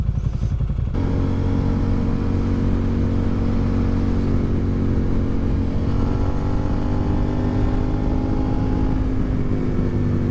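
A Suzuki SV650 third-generation motorcycle being ridden through curves, its engine droning steadily and close, with slight pitch shifts as the throttle eases and rises over a constant rush of wind.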